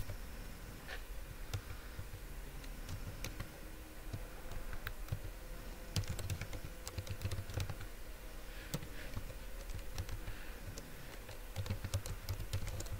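Someone types CSS code on a computer keyboard, a quiet, steady run of soft key clicks with brief pauses, close and alone without speech.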